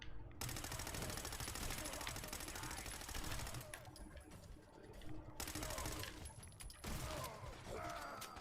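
Gunfire in Fallout 4 inside the Grand Harbor Hotel: rapid automatic bursts rattle loudly in several stretches, broken by brief gaps with mechanical clanks and debris clatter.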